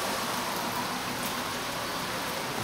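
Rain pours down in a steady, dense hiss, loud and unbroken, with no voices.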